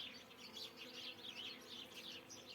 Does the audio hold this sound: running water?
no